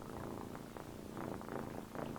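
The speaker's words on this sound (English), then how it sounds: "This cat's name is Zero" A cat purrs steadily and close by, a soft continuous rumble with rhythmic breathing pulses, heard alone in a quiet room.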